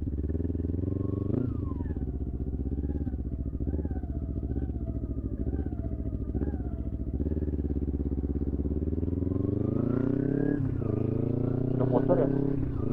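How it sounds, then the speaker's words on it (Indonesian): A motorcycle passes along a village road in rural Japan after dark, its steady engine drone rising in pitch as it approaches near the end, heard beneath continuous close conversation. "Ada motor ya."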